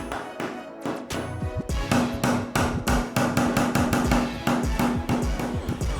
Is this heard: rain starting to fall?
no